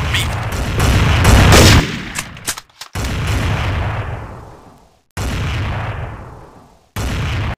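Heavy sniper rifle shots from the mobile shooter Counter Terrorist Strike boom out loud and close. Three powerful blasts each decay into a long rumbling tail, the first one dense and sustained.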